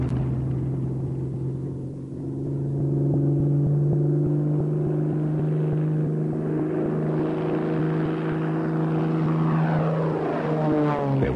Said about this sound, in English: test pilot Hans Sanders at the control, the first 190, known as V1, taxied down Bremen's airfield to put the new theories to the test